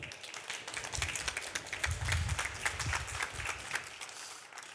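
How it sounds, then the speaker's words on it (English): An audience applauds a guest speaker, a Harvard professor, with steady dense clapping that fills the room at an even level throughout before tapering slightly at the end. "Please give him a big round of applause for Thomas van Dyke."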